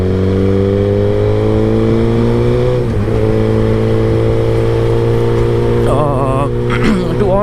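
A motorcycle rides up onto the Lyari Expressway with a steady engine drone and passing traffic around it, and a rising rev swells near the end.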